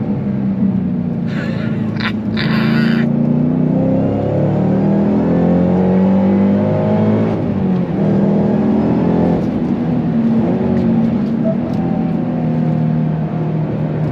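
A Ford Shelby GT500 (S197 generation) Mustang's engine rumbles steadily from inside the cabin, deep and throaty, rising and easing as it drives, with a brief clicking near the start.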